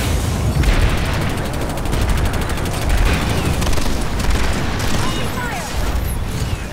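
Rapid automatic fire from the Trap gun in Planetside 2, a dense continuous rattle of shots layered with battlefield booms and mechanical noise, loud and close throughout.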